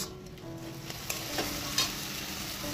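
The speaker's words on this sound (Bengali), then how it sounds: "তো এটাকে এখন এভাবেই ভাজবো আস্তে আস্তে" Saak greens fry slowly in a pan, giving a soft, steady sizzle with a few light stirring scrapes and taps, no voices.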